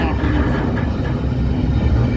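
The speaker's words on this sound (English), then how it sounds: "But we got a train" A loud, steady rumble of a train going by nearby in the Arkansas countryside, with dense low roar and faint rattling throughout.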